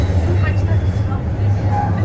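A VIA Rail train at a Toronto station makes a steady low engine and rail rumble with a constant hum, and faint voices are heard under it.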